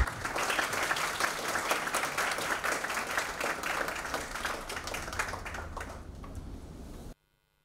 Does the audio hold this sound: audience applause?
yes